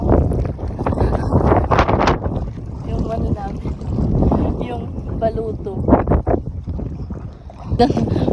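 Gusty wind buffets the microphone in strong bursts while someone talks on a fishing trip, with water and boat sounds underneath.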